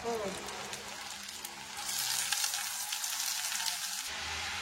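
Finely cut bottle gourd fries in a pan over reddened onions with a steady close sizzle, while a utensil stirs it with scraping and clattering, and the hiss swells as the stirring picks up.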